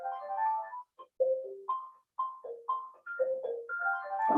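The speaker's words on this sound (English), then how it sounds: "it's a telephone ringing here" A telephone rings during a Green Tara meditation retreat class, playing a short melodic tune of clear electronic tones in quick phrases with brief gaps, heard alone and moderately loud.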